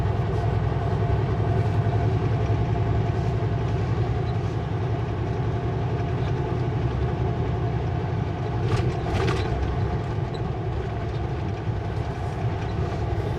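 Steady rumble and rolling clatter of a Canadian National train moving through a rail yard in Edmonton, continuous and fairly loud, with a brief brighter screech near the end.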